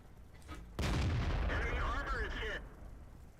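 A tank cannon shot in the World of Tanks video game, a sudden loud blast with a long rumbling roar and crackling tail lasting about two seconds before fading.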